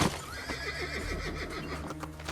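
A horse neighs in a loud, shaky whinny over galloping clip-clop hooves and dense ambient game sound in Assassin's Creed 2.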